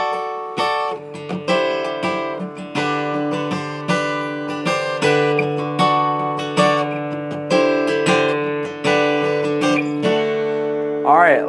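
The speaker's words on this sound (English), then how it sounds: "This song is great because it also uses a pedal tone D." Guitar playing the riff over a pedal tone D, strummed chords recurring in a steady rhythm, close and clear with no voices.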